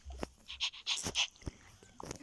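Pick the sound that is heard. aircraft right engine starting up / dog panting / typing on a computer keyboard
dog panting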